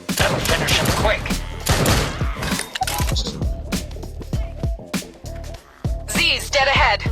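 Gunfire in the VR zombie shooter Arizona Sunshine, a rapid series of sharp, loud shots and impacts in irregular bursts with echoing tails, close and punchy, a voice heard briefly among the shots.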